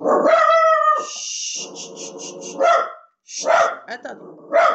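A pet dog barks and yips loudly and close by in a home, several sharp barks with whimpering tones between them, while someone speaks over and around the barking.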